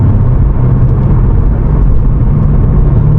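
BMW M5 Competition accelerating on a late-night road pull, a loud continuous low engine roar with road rumble filling the cabin, steady and unbroken, with no voices.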